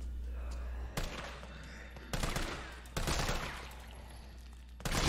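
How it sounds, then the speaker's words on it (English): Heavy machine-gun fire from Resident Evil 3 Remake, arriving in several loud broadband bursts of roughly a second each, separated by quieter gaps of game ambience. "Guy's dodging machine gun bullets"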